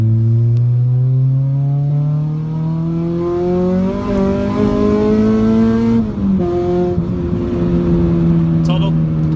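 A 233 bhp Honda Civic Type R with a modified exhaust revs hard close up, its engine note climbing in pitch, dipping at a gear change, then rising again as the car pulls away.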